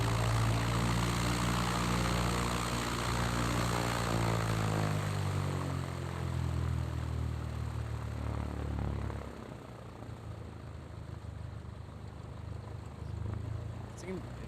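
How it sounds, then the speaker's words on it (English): On a cold day at Boeing Field, a propeller aircraft's engine idles roughly, its droning buzz sliding lower in pitch over several seconds before dropping away to a quieter, uneven rumble. "Seems this guy might be having problems with his engine. He's idling rough or something."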